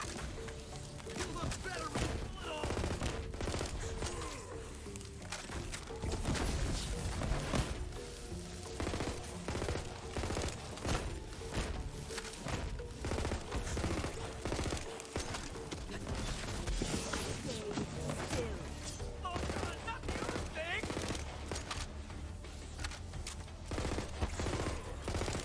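Rapid, dense bursts of shotgun fire from the Nimble Jack, a Jakobs shotgun in Borderlands 3, mixed with explosions and game effects in continuous combat, with a voice talking over it.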